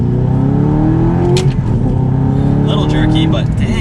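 Manual Audi R8 pulling hard in second gear, its engine note rising steadily and loud throughout, with a brief shift-like dip midway and someone talking over the roar.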